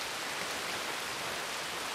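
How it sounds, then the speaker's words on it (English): Steady rain pours in Red Dead Redemption 2, an even, dense hiss of falling water with no distinct drops, constant throughout and alone. "It is glorious rain right now."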